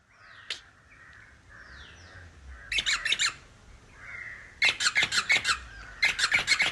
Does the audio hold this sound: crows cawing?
yes